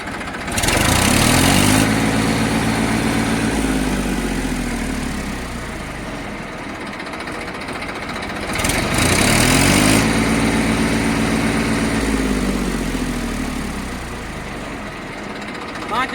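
A Massey 1035 self-start tractor's diesel engine runs steadily close by, its low throbbing drone swelling twice as it revs, with someone talking over it throughout.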